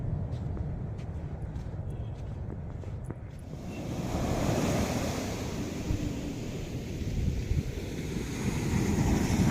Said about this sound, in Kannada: ಅಲೆಗಳು ತುಂಬ ಜಾಸ್ತಿ ಇದೆ.